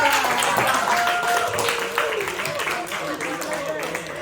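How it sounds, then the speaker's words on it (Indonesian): Classroom applause for a quiz winner during a lesson: a steady wash of clapping from a group of students, mixed with lively chatter and raised voices throughout. "Ya, tepuk tangan."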